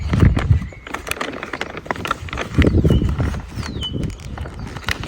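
A horse walks on a farm, hooves clip-clopping in irregular steps close by, with brief whinny-like calls mixed in among rustling and movement; no speech.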